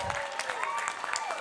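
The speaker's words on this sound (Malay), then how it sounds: "Tepukan untuk Angel dan juga Balkis" An audience applauds child performers on a TV singing competition stage, with dense, lively clapping and scattered sharp claps throughout.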